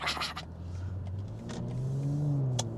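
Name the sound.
BMW G14 840i with catback exhaust driving on highway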